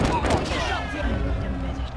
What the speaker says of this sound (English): Yeah, I was shooting at the dude, but he shot.